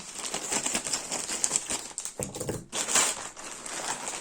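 A plastic postal parcel bag is handled and turned over close by, giving a steady dense crinkling and rustling with a few sharper crackles and short pauses, and nobody speaks.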